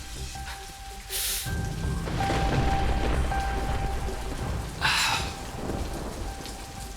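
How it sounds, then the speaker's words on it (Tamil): Heavy rain pours in a steady dense patter, with a low thunder rumble building midway and loud gusts of rainfall swelling briefly. "மழை எப்படி பெய்யுதுன்னு பாத்தியா?"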